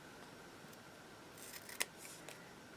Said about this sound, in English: I'm going to cut off the extra